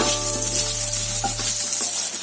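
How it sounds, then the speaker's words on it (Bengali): Small whole onions fry in oil seasoned with salt and turmeric, giving a steady close sizzle with light stirring clatter and no talk. "এই তেলের মধ্যেই আমি কয়েকটা ছোট গোটা পেঁয়াজ দিয়ে দিলাম"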